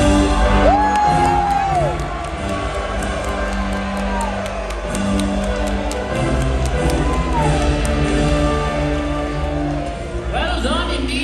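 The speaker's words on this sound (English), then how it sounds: "Turn and hear your people cheer." Crowd at a medieval tournament show cheers and whoops continuously, with shouts and yells rising over a steady roar of many voices and some amplified speech mixed in.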